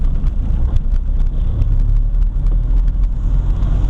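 A 1979 VW Rabbit with a 1.6-litre diesel engine pulls in third gear, heard from inside the car as a loud, steady low drone with rough clattering pulses and road rumble, no voices.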